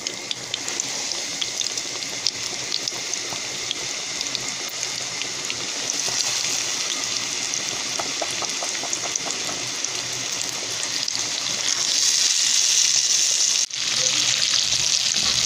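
Flour-coated chicken pieces fry in hot oil, filling the scene with a dense, loud, continuous sizzle and crackle that grows slightly stronger toward the end.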